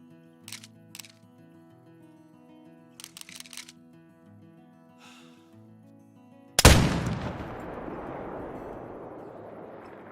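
A single rifle gunshot in a video game gives one sharp, loud crack after a quiet stretch of faint clicks, followed by a long rolling echo that slowly fades away.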